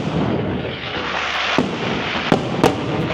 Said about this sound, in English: Fireworks every entire night, apparently.